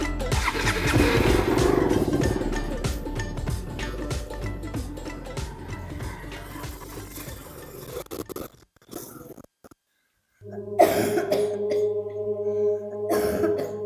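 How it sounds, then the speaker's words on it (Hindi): Repeated coughing and throat clearing close by, mixed with a rumbling motorcycle engine, followed by a brief silence and then further noise. "तेरे तो बहुत खांसी हो रही है"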